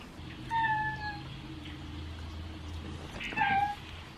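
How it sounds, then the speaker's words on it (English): A feral cat recovering from illness gives two drawn-out, wavering meows and howls about three seconds apart, fairly close and loud against a quiet indoor background hum. "It's just when he's meowing and howling, the other cats get all upset."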